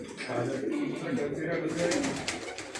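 A purebred Rampuri pigeon coos softly and repeatedly at close range on a rooftop, over a low background murmur.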